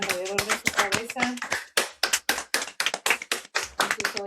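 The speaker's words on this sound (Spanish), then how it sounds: "Voy a aplaudir, aplaudan. Aplaudan alrededor de su cabeza." A small group claps in quick, uneven bursts of hand slaps, close and sharp, mixed with children's and adults' voices talking over the clapping.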